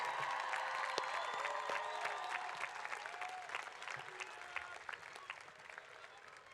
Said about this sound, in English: Graduates, give these champions a round of applause.